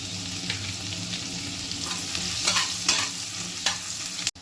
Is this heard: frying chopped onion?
yes